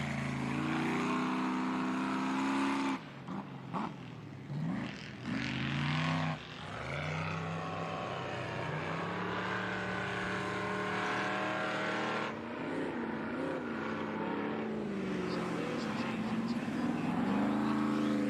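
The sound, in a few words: Ultra 4 off-road race cars driving down the track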